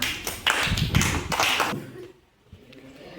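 A classroom of young first-grade children bursts into a loud round of clapping during a maths lesson. The rapid, near claps last under two seconds, then fade into quiet with a few scattered taps.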